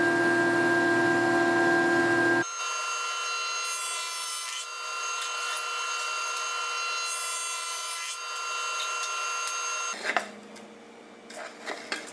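A taper is cut into wooden stagecoach arms, going from 1 inch down to 3/4 inch. A steady, close machine whine with a humming tone runs for about ten seconds with no talking, then gives way to a few scattered wooden knocks and clatters.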